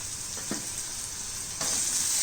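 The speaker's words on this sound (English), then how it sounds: "While the onions are getting cooked" Onions with salt frying in a pan for a sprouted moong curry make a steady close sizzle, with a brief scrape of stirring midway and a louder hiss near the end.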